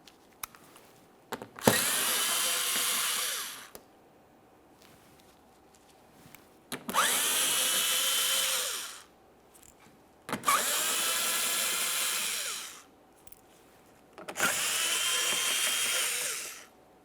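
A power tool drives out 8mm headed bolts from the bumper shield of a 2014-2018 Mazda 3. It makes four separate whirring bursts of about two seconds each, with short pauses and small clicks and handling noises between them.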